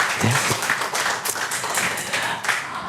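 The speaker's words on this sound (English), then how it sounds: "If you want some applause, give yourself some applause." Applause during a sales training seminar, scattered hand claps from a modest group, somewhat uneven with a few individual claps standing out, moderately loud and without speech.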